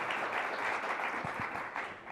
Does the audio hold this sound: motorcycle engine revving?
no